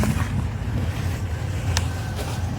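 A 1964 Buick LeSabre V8 idling unevenly after coolant work, a steady low rumbling idle with choppy irregular pulses, close and loud, with a few light clicks on top and wind noise.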